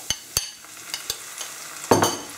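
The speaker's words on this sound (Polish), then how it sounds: "Cebulka zeszklona, a zatem wrzucam pomidorki" Onions and tomatoes fry in a pan as a spoon stirs them, making sharp scraping knocks at uneven intervals over a faint, soft sizzle.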